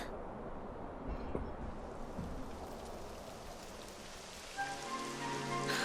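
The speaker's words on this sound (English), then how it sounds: "It would have to go and start raining, wouldn't it?" Steady rain falls in the Dragon Quest XI S fantasy game, a dense continuous patter with a few louder drop hits, joined near the end by soft sustained musical tones, with no voices.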